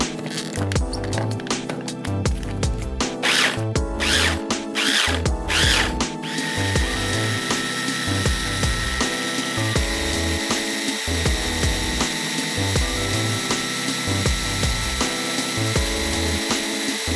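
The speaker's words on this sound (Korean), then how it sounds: "물 10ml를 넣고 갈아줍니다" A blender grinds ingredients for a spicy Korean braised short rib sauce with a little water, first in choppy pulsing bursts and then as a steady high motor whine, loud and close.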